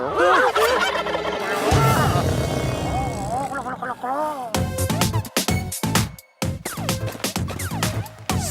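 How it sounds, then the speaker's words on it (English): Cartoon turkey gobbling in a loud, warbling burst, then clattering, abrupt cartoon sound effects follow. "Gobble, gobble, gobble."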